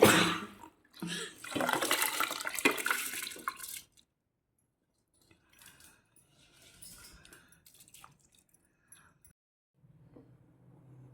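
Soaked rice and its soaking water are tipped into a cooking pot of fenugreek-leaf rice, a close, gushing splash for about four seconds, followed by quieter scattered clinks and small sounds.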